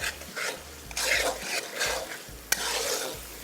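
Thick kadai gravy roasting in a pan with its edges catching and charring, scraped and stirred in rhythmic strokes over a steady sizzle, close and moderately loud, with one sharp clack of utensil on metal near the end.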